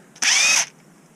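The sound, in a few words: impact ratchet removing bolt from R380 gearbox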